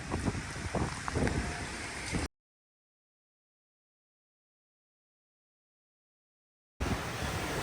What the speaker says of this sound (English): Got some gust coming through.